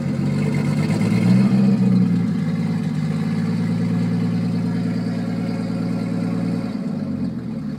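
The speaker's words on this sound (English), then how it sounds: "Rock solid tuning on a MAP ECU Gen 1, 700 RPM idle." Toyota Supra Mk3 turbo with a 7M-GTE engine and a Gen 1 MAP ECU, running without an idle air solenoid, idles cold near 700 RPM with a steady low rumble that wavers and dips unevenly, loud and close, with no talk.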